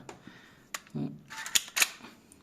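A K7-C single-shot steel air pistol firing plastic pellets at a drink can, heard as a few sharp close snaps and clicks with a dull knock between them, in an otherwise quiet space.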